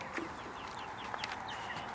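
Chickens cluck softly in a coop, short scattered calls over a steady low background hum, fairly faint and continuous.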